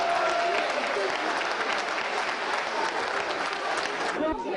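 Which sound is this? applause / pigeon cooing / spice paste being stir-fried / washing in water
applause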